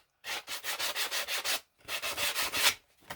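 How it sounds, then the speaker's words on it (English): A sanding sponge rubbed briskly over the paper-covered edge of a Christmas craft piece, sanding off the excess paper in two bursts of quick back-and-forth strokes, about a dozen rasping passes, close and clear with a short pause between. "So I'm just using the sanding sponge,"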